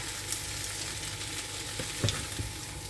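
Ingredients frying in a little oil in a pan for a budget salad, a steady close broadband sizzle with scattered light pops and a few stirring clatters near the middle.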